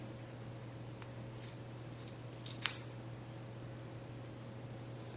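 Scissors snip a part during a repair of in-window blinds, a few faint, brief cuts with one sharper snip near the middle, over a steady low hum.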